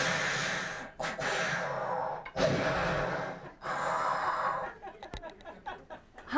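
A voice imitates Darth Vader's mechanical breathing through an oxygen tank mask, with long rasping inhales and exhales in slow rhythm, close and fairly loud, ending in a few short breathy catches.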